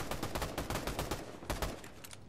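Rapid gunfire in Fortnite, a fast train of sharp close shots in quick bursts with brief gaps, loud and without speech.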